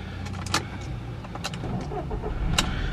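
Fiat Linea Absolute 1.8 Flex car from 2011 with Dualogic gearbox, its engine cranking and catching, then idling steadily with a few clicks and clunks around it, close by.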